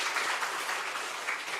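A church congregation at a Sunday service breaks into dense, even applause, a continuous wash of many hands clapping throughout the brief moment with no voices.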